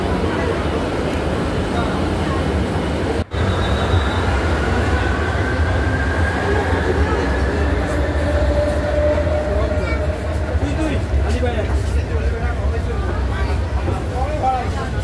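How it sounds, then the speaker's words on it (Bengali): Riding a Kolkata metro train: a loud continuous rumble of the running carriage with rising and falling whine and faint squeals, steady throughout the ride. "মেট্রোতে উঠে পড়লাম"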